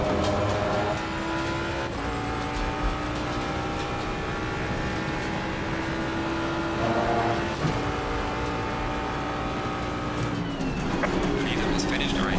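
Race car engine in Assetto Corsa Competizione, a steady sustained drone with shifting harmonic pitch and gear changes throughout, with a voice talking over it.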